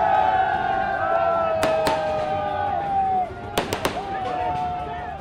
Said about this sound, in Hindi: आतिशबाजी हो रही थी